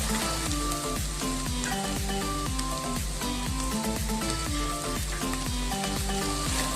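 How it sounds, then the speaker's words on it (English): Chopped cluster beans hit a pan of softened, translucent onions and sizzle loudly and steadily, a dense frying crackle with soft stirring scrapes, no voices over it. "So now into this I'll be adding all the cluster bean vegetable which I have chopped."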